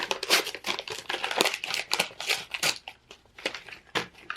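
A large orange paper envelope of craft materials being torn open and rummaged, with repeated crisp crinkling, rustling and tearing bursts in quick irregular succession, close and fairly loud, no talking.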